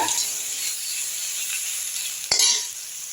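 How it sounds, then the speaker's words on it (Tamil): Chopped tomatoes sautéing in a pan for kasuri methi chicken masala give a steady, close sizzle with light stirring, and a brief scrape or clink of a utensil near the end. "இதுலேயே வந்து தக்காளி எடுத்து கொட்டிக்கலாம் இது லைட்டாக வந்து ஒரு ரெண்டு நிமிஷம் வதக்கினா போதும்"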